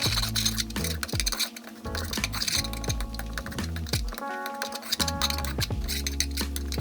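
A metal spoon scrapes and clinks steadily against a pan while stirring a cooking flour roux for Japanese katsu curry, a busy rapid clatter close up with sizzling underneath and no speech.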